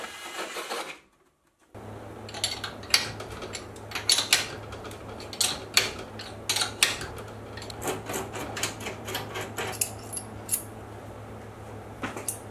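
Holes in a workpiece are widened from 6.5mm to 7mm, a steady motor hum running under a rapid series of sharp metallic clicks and scrapes, after a brief silent gap at the start.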